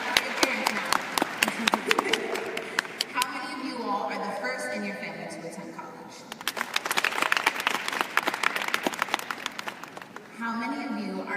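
An audience of accepted students and families applauds at a UB accepted students day, with bursts of sharp, close clapping and cheering that swell, dip and return, while someone speaks over the crowd.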